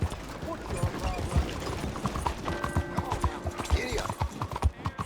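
A horse in the video game Red Dead Redemption 2 gallops with steady, rhythmic hoofbeats close by, while a brief whinny and faint rattling tack sound over the pounding gait.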